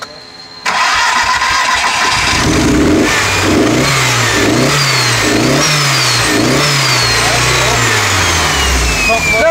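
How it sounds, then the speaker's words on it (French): A four-cylinder car engine with one dead cylinder starts up loud and close, then runs with an uneven, lumpy rhythm that surges and dips repeatedly as it revs, with some voices in the background. "Démarre. Problème sur un cylindre là."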